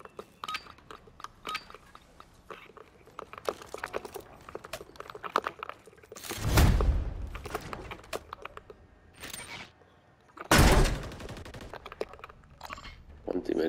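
Gunfire in Call of Duty MW3 ranked Search and Destroy, two loud bursts of shots in the middle and later, between softer clicking game sounds while a player talks.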